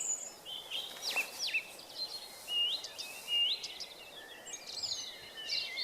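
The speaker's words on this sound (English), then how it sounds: "We've got some blackbirds coming in now" Blackbird song during the dawn chorus at East Dartmoor, a series of fluty whistled phrases with a few brighter chirps, moderately distant and fairly faint over quiet outdoor ambience, with no talking.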